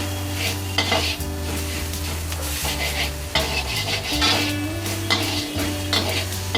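Bombay duck gravy with mixed spice powder sautés in plenty of oil, sizzling steadily while a spoon stirs and scrapes the pan in repeated strokes up close.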